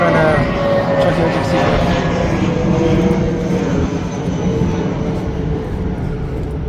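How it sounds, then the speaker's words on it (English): An airplane passes overhead above the houses of San Miguel, Peru, a steady broad engine roar that holds loud through the whole stretch and eases slightly near the end, with a person speaking beneath it. "So as you can see, there's a plane."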